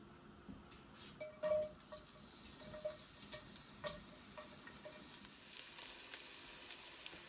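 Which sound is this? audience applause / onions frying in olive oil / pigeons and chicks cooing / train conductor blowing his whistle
onions frying in olive oil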